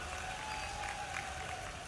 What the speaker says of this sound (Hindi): आपने ताली बजा के आनंद लिया है